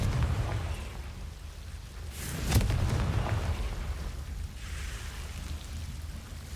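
A Confringo fire spell goes off in Hogwarts Legacy, one sharp burst landing near the middle of a steady rumbling ambience, followed by a brief crackling tail.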